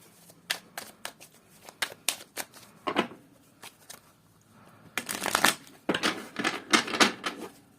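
Tarot cards being shuffled in a run of crisp riffling bursts, near and fairly loud, with short pauses between the riffles and a denser flurry toward the end.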